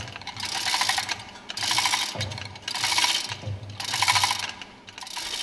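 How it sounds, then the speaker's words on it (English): A tool's center screw is turned to lift the plunger of a marine engine fuel pump, giving close, repeated ratcheting mechanical clicks in rhythmic bursts at a moderate level, with no voices. "Pull the center screw of the tool to lift the plunger clear of the bayonet joint in the roller guide"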